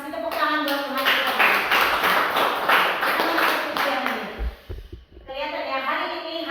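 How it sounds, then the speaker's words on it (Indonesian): A church congregation claps their hands in a steady rhythm for several seconds, mixed with voices. The claps fade briefly and then the voices carry on. "kasih tepuk tangan buat Tuhan kita"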